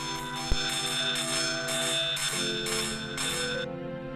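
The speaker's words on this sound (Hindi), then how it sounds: "आप अपनी साइकिल की घंटी बजाएंगे, जैसा कि अभी हमने इस चलचित्र में देखा और सुना" A metal bicycle bell rings in a rapid, continuous trill of bright tones, loud and close, lasting about three and a half seconds before stopping abruptly.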